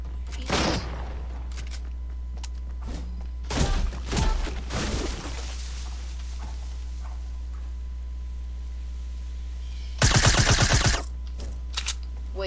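Loud bursts of gunfire in the video game Fortnite, with several short volleys early on and a dense rapid burst near the end, set against a steady game background hum.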